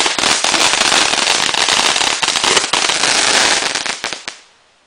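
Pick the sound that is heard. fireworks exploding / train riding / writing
fireworks exploding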